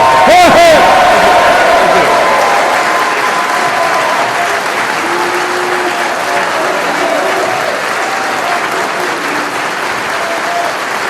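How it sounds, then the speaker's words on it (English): A large audience applauds at a Vote Leave campaign launch speech in Manchester, loud continuous clapping with some cheering, strongest at the start and holding steady for about ten seconds. "Come on, a big round of applause."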